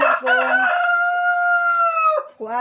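A large hen gives a single loud, drawn-out call lasting about two seconds, close by, with a short squawk following right after.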